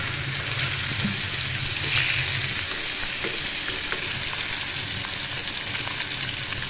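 Pieces of fish sizzle in hot oil in a pan for a fish curry with sponge gourds. A dense, steady crackling hiss runs throughout, close and fairly loud, with a few soft knocks.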